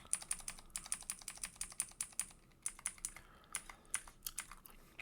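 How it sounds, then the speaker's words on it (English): Loud computer keyboard typing in rapid clattering bursts of sharp key clicks, close up, with brief pauses between runs, no voices. "Yeah, I apologize for my loud keyboard."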